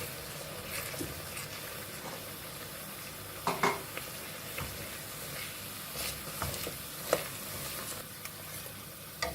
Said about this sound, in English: So you're going to mix in the flour slowly into the butter.